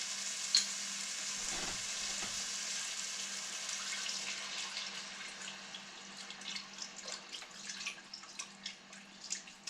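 Beef broth hisses and sizzles steadily in a hot pan while pot roast cooks, a soft continuous crackle with faint stirring near the end.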